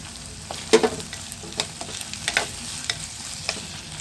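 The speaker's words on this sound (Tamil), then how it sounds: "இப்போ வெங்காயம் நல்லா வதங்கிருச்சு இப்போ நம்ம இது கூட தக்காளி சேர்த்துக்கலாம்" Onion and tomato sauté in a pan as the base for a fish gravy, with a soft continuous sizzle broken by several light scraping and clinking stirs.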